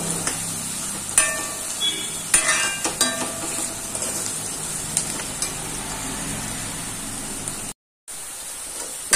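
Sliced onion sautéing in a pan for a carrot thoran, a steady soft sizzle with intermittent scrapes and clinks of a spoon stirring, briefly cutting out near the end.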